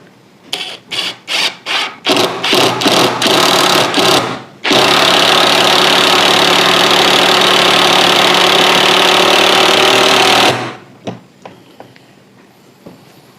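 NAGAWA BIS12U impact driver runs a 7.5 cm screw: a string of short rattling hammer bursts, then a loud sustained impacting roar for about six seconds before it stops, leaving faint handling clatter.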